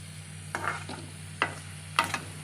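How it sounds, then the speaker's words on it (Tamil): Pirandai (adamant creeper) stirred and dry-roasted in a pan, a few distinct scraping strokes of the spatula spaced irregularly over a low steady hum, close and fairly quiet. "பார்த்தீங்களா, இந்த மாதிரி நல்லா வறுத்து எடுத்துக்கோங்க"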